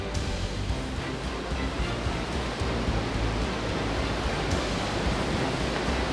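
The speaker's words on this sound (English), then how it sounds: "Dedifoss, the biggest European waterfall with a flow rate of 200 cubic meters per second, bottoms out into a 44-meter canyon." Dettifoss waterfall in Iceland, which drops into a deep canyon, gives a loud, dense, continuous roar of rushing water. The broadband rumble holds steady throughout with no voices.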